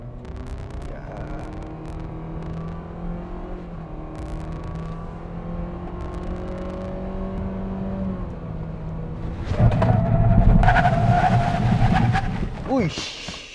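A car in L gear accelerates hard during a test and the engine note climbs steadily for several seconds. A louder roar and the sound of braking follow, and a voice speaks alongside the engine.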